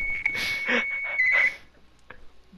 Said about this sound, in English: Do you have a truck backing up in your fucking phone?